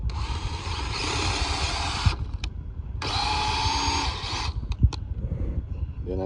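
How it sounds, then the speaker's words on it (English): A power drill bores into a wooden corner during porch construction, two sustained whining bursts separated by a short pause, with clunks of handling and no talk. "Then I drill this corner out."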